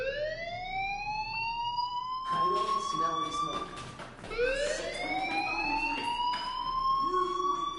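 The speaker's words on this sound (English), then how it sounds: "do you hear that fire alarm? That means you should be outside" A fire alarm in the video game Life is Strange wails in rising, falling siren sweeps that repeat twice, loud and continuous, with a burst of talk layered over the middle of it.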